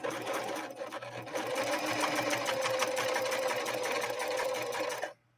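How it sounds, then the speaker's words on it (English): A Husqvarna Model 145 sewing machine runs a straight stitch through 100% cotton with a denim needle, a steady fast mechanical whir and needle chatter that holds evenly for about five seconds and then stops abruptly. "Let's lay down a straight stitch and then we'll go from there."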